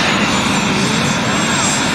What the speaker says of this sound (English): There goes the helicopters getting ready. Helicopters are getting started.